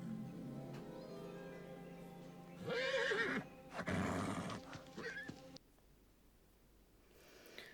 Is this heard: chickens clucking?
no